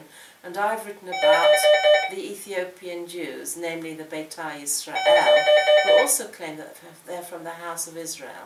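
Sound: telephone ringing

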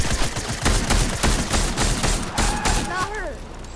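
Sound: gunfire shooting at Carnage in the video game Fortnite

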